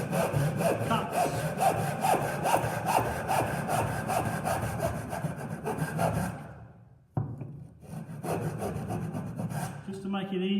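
A tenon saw cuts through wood in rhythmic back-and-forth strokes, close and loud, pausing briefly near the end before a few more strokes resume.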